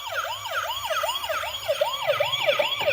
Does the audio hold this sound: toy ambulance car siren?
yes